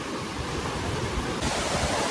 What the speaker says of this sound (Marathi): आता दुसऱ्या धबधब्याजवळ पोहोचलेले आहेत